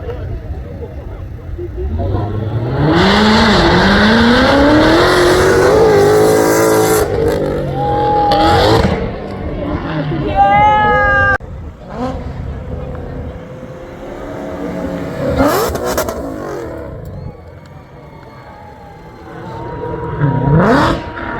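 A powerful V8 exhaust on a 2021 Ford GT500 revs hard in a rolling exhaust competition at a car show, climbing and falling through several loud blips, with crowd noise and a voice faintly underneath.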